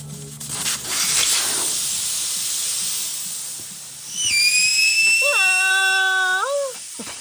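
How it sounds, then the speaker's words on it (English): Air hisses from a motorcycle tire valve stem with the core removed, holding as a steady broadband hiss that swells and fades, followed by a squealing, whistling tone that rises and holds before cutting off. "We're gonna take the valve stem out."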